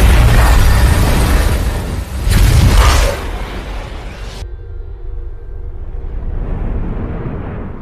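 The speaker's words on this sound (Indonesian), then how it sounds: "Meriam pun melepaskan tembakannya yang terakhir kali." A cannon fires its last shot in a sci-fi film battle between humans and aliens: two loud booming blasts in quick succession, then a sudden cut to a quieter, lingering rumble.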